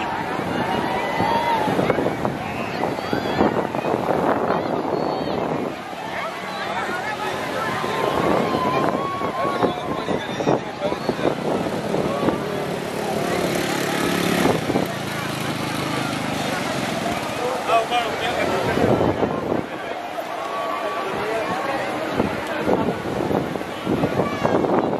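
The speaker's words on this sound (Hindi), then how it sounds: "सामने जो आप देख रहे हैं वो है बनाना राइड।" Banana boat ride at Nagoa beach in Diu, with a boat engine, wind buffeting the microphone and surf heard steadily throughout, while people talk over it.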